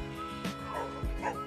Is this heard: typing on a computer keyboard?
no